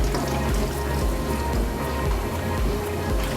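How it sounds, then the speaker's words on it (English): Water pours in a steady, splashing stream into the inner pot of an Instant Pot that already holds frozen chicken, close and continuous for a few seconds. "And then I'm going to add about a 1/4 cup of water"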